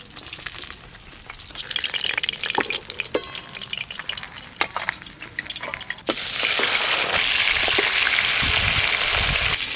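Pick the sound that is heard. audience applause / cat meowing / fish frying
fish frying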